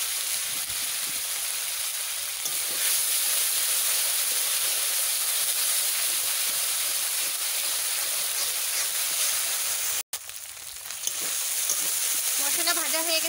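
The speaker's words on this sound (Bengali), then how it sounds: "মশলাটা ভালো করে ভাজা করে নিই।" Spice paste with cumin fries in a little oil in a pan, making a continuous bright hissing sizzle with a brief dropout near the end.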